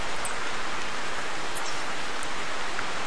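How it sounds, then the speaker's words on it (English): Steady rain in the hunting game The Hunter, a dense, constant hiss of falling drops filling the scene without pause, with no voices over it. "Okay, it's still raining."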